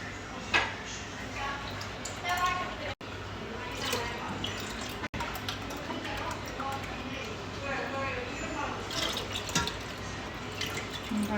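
Water is poured into a pan for a sauce, with trickling and dripping sounds coming through a busy kitchen backdrop while people talk.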